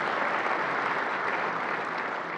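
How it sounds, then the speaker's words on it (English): An awards ceremony audience applauds a board chairman, a dense, steady wash of clapping held throughout and easing slightly at the end, without speech. "go ahead and applaud"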